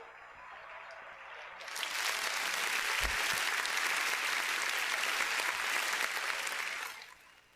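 An audience at a school annual function bursts into sustained applause that rises quickly and holds steady for several seconds before fading out, with no talk over it.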